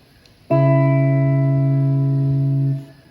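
A single sustained guitar note rings through an M-Wave Mini Universe reverb pedal on its hall setting, starting abruptly, holding steady for about two seconds, then fading into a short hall-like tail.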